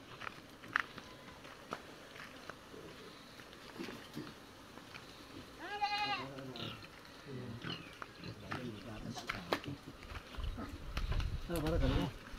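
Native pigs in a Philippine barangay, grunting and snorting at close range amid rustling footsteps, with loud oinks and squeals around the middle and end while people talk over them.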